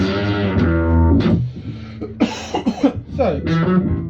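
An electric guitar runs through an Aotearoa Intermodulator pedal, giving a loud, buzzy, synth-like distortion: sustained chords first, then a burst of short, choppy palm-muted chugs, with some talking.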